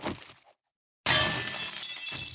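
Bulletproof glass shatters in the survival game 7 Days to Die: a crash and rattle, a sudden silent gap, then a bright burst of breaking glass that rings on with scattering shards.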